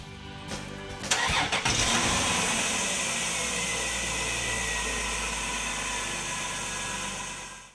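A car engine cranks briefly, catches, and settles into a steady rumbling idle close by, with no talking.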